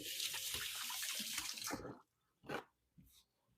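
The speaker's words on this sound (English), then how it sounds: "I'm going to give my hands a quick rinse." Hands rinsed under a running kitchen tap: a close, steady splash of water for about two seconds, then silence broken by two brief splashes as the water is cut and the hands shaken off.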